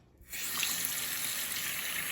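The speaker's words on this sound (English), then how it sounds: "I'm just gonna run the water on it like this" Warm tap water starts with a sudden rush and then runs in a steady gush into a sink while paint is washed off a glass, close and unbroken.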